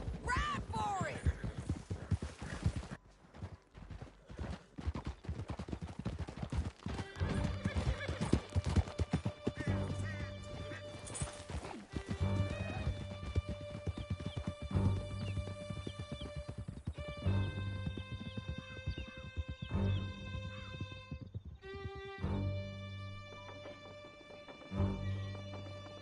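Horses gallop and neigh in Red Dead Redemption 2, a steady run of hoofbeats with loud whinnies over a game score, while voices shout over the chase.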